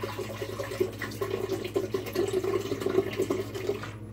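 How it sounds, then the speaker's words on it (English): Nopal cactus water is poured into a blender while making an immune-boosting smoothie; a close, gurgling liquid stream runs for about four seconds with a faint background hum, stopping abruptly at the end. "We'll put in some Nopal cactus water."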